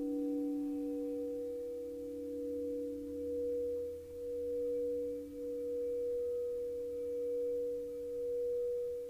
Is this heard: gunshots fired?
no